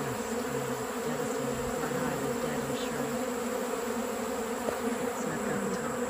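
Honey bees swarm over wax cappings set out for cleanup near backyard hives, a dense, steady buzzing hum that holds evenly throughout with no talk.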